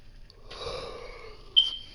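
A drawn-out yawn, about one second long, from someone just awake, breathy and close with a falling tone, ending in a short sharp exhale or squeak.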